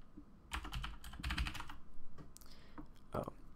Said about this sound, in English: I'm kind of bad at typing right now.